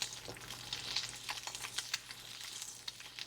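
An egg frying in olive oil after being flipped, a soft, quiet sizzle with small crackles and pops, no voices.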